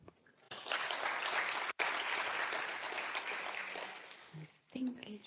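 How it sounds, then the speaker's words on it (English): A conference audience applauds to welcome a speaker at a closing plenary session, a steady sustained round of clapping with a brief gap, tapering off as a voice begins talking near the end. "A welcome applause for you"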